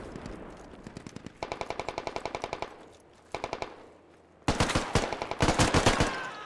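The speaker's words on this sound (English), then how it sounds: "There's guys from our west firing." Automatic rifle fire in the video game Squad, with rapid repeated bursts that stop and start, and a louder, closer stretch of shots near the end.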